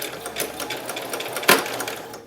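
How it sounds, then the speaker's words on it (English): A sewing machine runs in a steady rapid whir of stitching, loud and close, with a brief sharper clack midway. "now I'm going to go to the sewing machine and sew it"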